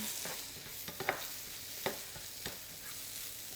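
Mushrooms frying in a pan for a vegan lasagne, stirred around with a utensil: a steady close sizzle with a few light scraping clicks against the pan, no talk.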